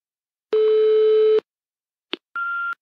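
A single sustained answering machine beep tone, clean and electronic, followed by a brief click and a second shorter, higher beep, with silence between.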